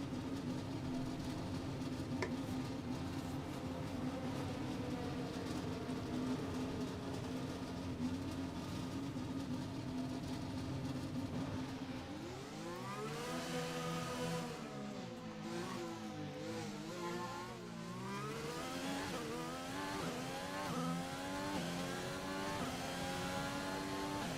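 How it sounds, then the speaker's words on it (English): Formula 1 car engine in the F1 2020 video game, a sustained steady drone that shifts midway into rising and falling revs as the car pulls away and changes gear, loud and continuous with no talk. "Engine fired, we're set."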